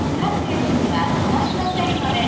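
Steady rumble of a moving express train cabin in Japan, constant low drone with faint rattling, people talking quietly over it throughout.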